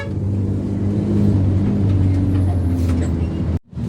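Road traffic of cars and buses in the Philippines, heard as a steady, loud low engine rumble and droning hum from nearby vehicles, cut by a brief dropout near the end.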